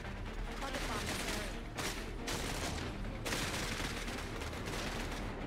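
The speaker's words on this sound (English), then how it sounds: "are we close enough that we can carpet bomb this thing?" Dense, continuous roar of carpet-bombing explosions in the video game Cepheus Protocol, loud and relentless with brief dips, no talking.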